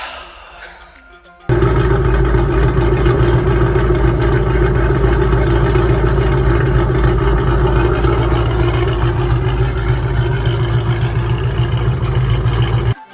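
Ford Coyote V8 with aftermarket cams starts up and idles loudly and close, a steady deep lopey rumble that holds continuously after the start.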